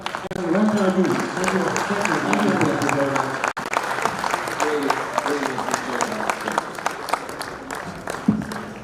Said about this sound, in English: Keep that applause going, ladies and gentlemen.